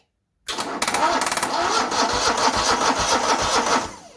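A small Grazer G2297K lawn mower engine with spark plugs disconnected cranks over rapidly and repeatedly with a rhythmic chugging, close and loud, lasting a few seconds before winding down; it never catches.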